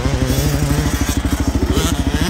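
Two-stroke motocross bikes, 125cc and 250cc, ride at Unadilla during qualifier practice, a loud close buzzing engine with rapid rhythmic pulses that stays steady throughout.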